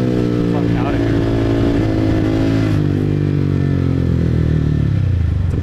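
A motorcycle rides through the streets of Saigon, Vietnam, its engine loud and close with a steady droning hum that rises and shifts in pitch as it accelerates, while someone speaks over it.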